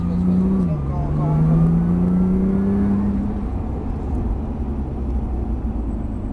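A Porsche on a race track easing through a corner and re-accelerating, its engine tone dipping then climbing steadily, loud and close, heard from inside the car while an instructor talks over it.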